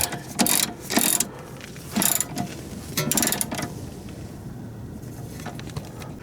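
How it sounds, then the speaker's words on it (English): Ratchet tightening a 17mm bolt on a Honda Civic strut assembly, heard as several short bursts of close clicking strokes separated by brief pauses, followed by a quieter stretch. "we're just gonna go ahead and tighten this 17mm bolt up"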